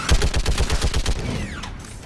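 Rapid bursts of automatic gunfire from a shootout in the video game Mass Effect rattle loudly and steadily for about a second and a half before trailing off.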